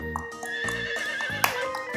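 A horse in a Russian children's toy cartoon whinnies with a high, shaky neigh over bright, tinkling cartoon music with soft rhythmic beats, moderately quiet and without talk.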